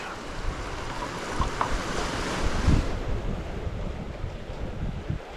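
Sea surf and gusting wind along a rugged Greek coastline, a continuous loud wash of breaking waves with wind buffeting the microphone, no voices.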